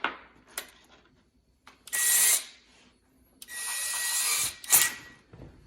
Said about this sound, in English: Oh, forgot to drill our pilot hole.